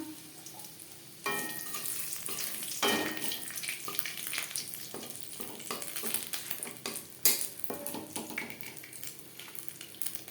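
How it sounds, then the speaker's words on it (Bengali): Four dried red chillies spit and sizzle in hot oil in a kadai for a tempering, with bursts of crackle and the scrape of stirring against the pan, loud and close. "ফোড়নে দিয়ে দিলাম 4টে শুকনো লঙ্কা"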